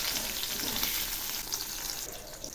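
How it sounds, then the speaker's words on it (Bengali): Tomato and boiled potatoes frying in a pan for a cabbage dish, a dense continuous sizzle with faint stirring underneath, close and steady throughout with no voices. "এবার এগুলি নেড়ে দিচ্ছি।"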